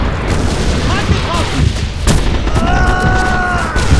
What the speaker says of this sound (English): Artillery dropping right side of the port to left side.